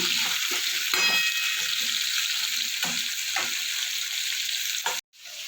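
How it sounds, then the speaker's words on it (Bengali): Spices sizzle steadily in hot oil in a pan for a pure-veg Bengali cabbage sabji, with a few spoon scrapes and clicks over the constant hiss until it cuts off abruptly near the end. "এবার আমি লাল লাল করে ভেজে নেব"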